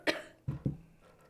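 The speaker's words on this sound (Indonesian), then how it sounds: "gue batuk" A person who is feeling unwell coughs three times, one sharp burst followed by two lower, quick coughs close together, near and fairly quiet with no talking.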